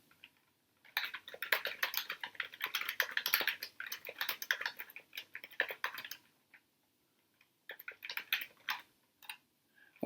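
Typing on a computer keyboard in the vi editor gives quick, close clicking keystrokes in irregular bursts with short pauses, some runs fast and dense, others just a few taps.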